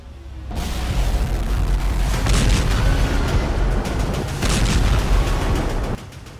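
Explosions from attacks on Kharkiv in the Russia-Ukraine war: a loud, continuous wall of rumbling blasts and booms with crackling bursts, easing slightly near the end.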